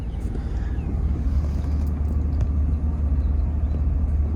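1999 BMW 328ic E36 engine idling while warming up: a steady low rumble that holds evenly throughout, heard from inside or near the car, with a faint click partway through.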